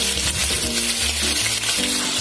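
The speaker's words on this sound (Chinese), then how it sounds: "茄子直接水里捞出来下锅" Loud, continuous sizzling as wet eggplant pieces, lifted straight from water, hit hot oil in a wok for a home-style stir fry, with a bright crackling hiss throughout.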